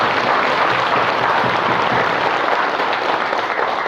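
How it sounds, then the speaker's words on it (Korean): Steady, full applause from a church congregation filling the whole stretch, close and even in level. "하나님께 정말 큰 감사와 영광의 박수를 올려드리고 싶습니다."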